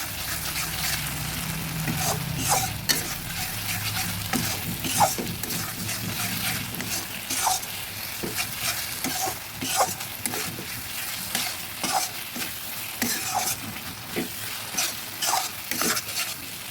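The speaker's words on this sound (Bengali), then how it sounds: "টিলার তো সর্ষেটা ভালোভাবে ভেজে নেবো" Mustard paste frying in a pan and being stirred steadily: a constant bright sizzle with repeated clinks and scrapes of the spoon against the pan, close and fairly loud, with no talking.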